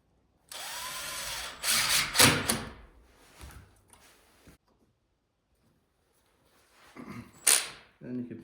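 Impact driver sinking wood screws into a door during a tiny house build, a few loud bursts of driving with short pauses between them, close by.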